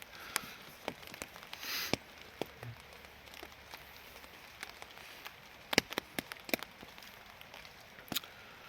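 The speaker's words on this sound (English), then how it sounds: "it is actually raining again now" Scattered raindrops tap irregularly on an Adirondack tarp shelter at an overnight camp, sharp little ticks over a quiet, steady hiss of rain.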